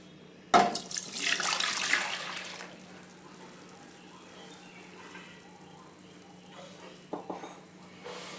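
Milk splashes into a pan brushed with ghee for rabri, a loud pouring rush that lasts about two seconds before fading to quiet, followed by a couple of brief clinks near the end.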